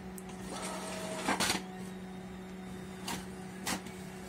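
A Brother DCP-J1xxx inkjet printer prints a test page: a steady mechanical hum with sharp clicks and short bursts of carriage movement as the head shuttles, close and alone.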